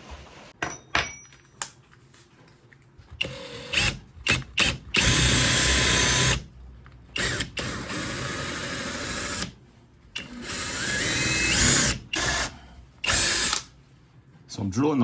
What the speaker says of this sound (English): So I'm drilling the hole at an angle